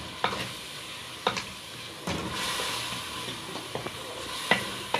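Green chillies stirred into hot frying masala for a cabbage and chicken curry, a steady close sizzle with sharp spoon scrapes and clacks against the pan at irregular intervals, no talk.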